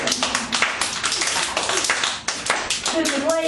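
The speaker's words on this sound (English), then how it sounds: "Like you could clap along." Several pairs of children's hands clap along in a quick steady rhythm, mixed with music and singing at a clown show.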